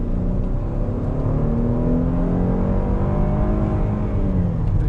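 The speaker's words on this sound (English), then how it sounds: "Give it another acceleration test." A 2019 Cadillac XT5 SUV engine revs up steadily over several seconds during acceleration, a loud continuous rising drone with strong harmonics, close by and with no talking.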